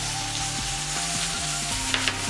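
Spinach sautéing in a pan with softened onions and garlic, a steady close sizzle with light scraping and stirring clicks throughout.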